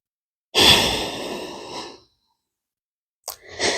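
A long, deep exhale during a yoga bridge pose trails off into silence. A sharp inhale follows near the end, close and clear, with no talking.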